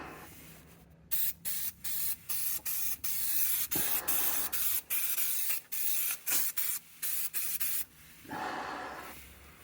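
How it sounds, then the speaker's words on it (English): Fluid Film undercoating sprayed from an aerosol can onto a Jeep's frame and metal underbody parts, heard as a run of close, loud hissing bursts with short gaps between them, ending in one longer spray. "any kind of metal surface, frame, components, whatever, it doesn't matter. I'm spraying it all."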